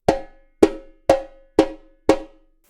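Five sharp, ringing drum strokes on a samba repique, evenly spaced about half a second apart, each with a bright metallic attack and short decay, played alone and close.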